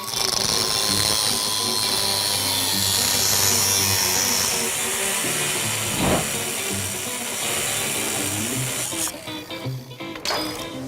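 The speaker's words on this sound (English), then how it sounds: "I'm gonna cut these off of the Samurai plates and weld them on in the right place over there" Steel spring plates being cut off a Suzuki Samurai in a junkyard-build garage: a loud, continuous hissing, grinding cut that holds steady, then breaks up and quiets near the end.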